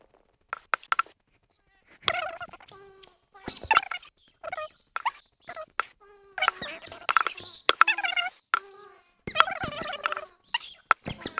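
A giant chicken-like bird creature in the game Mortal Online gives repeated gobbling, clucking calls in short irregular bursts separated by silent gaps, close and fairly loud.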